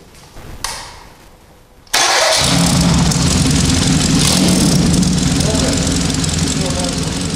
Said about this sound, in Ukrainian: Пробуй, чи двигун заводиться.